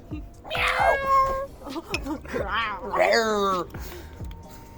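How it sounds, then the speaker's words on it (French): Several drawn-out meows sound one after another against a background of indistinct talk and scattered clicks. "c'est miaulement de chat"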